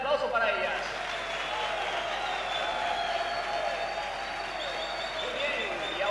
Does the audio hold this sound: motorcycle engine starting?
no